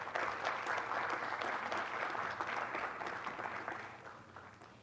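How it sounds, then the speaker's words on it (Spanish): An audience at a university teaching symposium in Mexico applauds in a steady wash of clapping from many hands, moderately distant, gradually fading toward the end. "Un aplauso para ellos, por favor"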